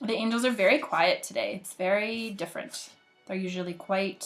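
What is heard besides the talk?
No everyday noises stand out.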